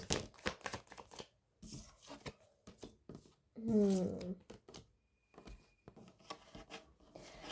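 Tarot cards shuffled and drawn by hand in a rapid series of papery rustles, snaps and slides, close to the microphone and loudest in one longer riffle midway, with short pauses between handfuls.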